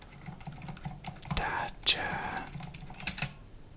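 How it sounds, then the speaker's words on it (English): Keys clattering on a mechanical computer keyboard during a gaming session, a soft patter of close clicks under quiet whispered speech. "I hope you'll hear my mechanical keyboard a little bit more."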